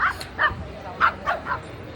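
Dogs at an outdoor dog show on Necklace Road give about five short, high yips and barks in an uneven rhythm, fairly close, over a murmuring background.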